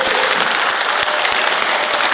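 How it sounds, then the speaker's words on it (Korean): A hall full of attendees at a Korean book-launch event claps in a loud, continuous burst, close and crowded, with no voices heard over it. "자긍심을 가지고 박수 한번 쳐주셔도 돼요."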